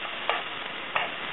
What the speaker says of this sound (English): So we're just going to lightly fry these.